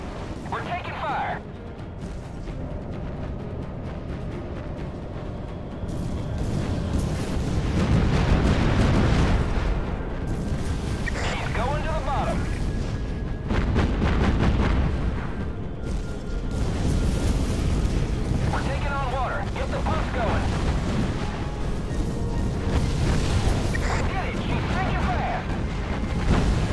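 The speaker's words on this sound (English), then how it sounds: "South Dakota is under enemy fire" Naval gunfire and shell explosions rage around the battleship South Dakota in a first battle of Guadalcanal naval combat game, heavy rolling booms and blasts layered over a constant rumble for nearly half a minute, with voices talking over the din.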